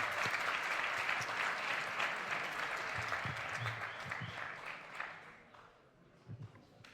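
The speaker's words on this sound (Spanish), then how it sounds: "recibimos a Ángela con un fuerte aplauso" Sustained audience applause welcoming a speaker at a university seminar event, steady and full for about five seconds before thinning out and fading, with a few low voices near the end.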